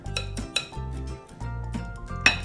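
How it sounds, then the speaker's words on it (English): Ingredients for sugar cookie bars, salt and baking powder, go into a mixing bowl, with a few clear clinks of a spoon against the bowl and soft tapping between them, close and fairly quiet with no speech. "Then I'm going to add my salt and baking powder"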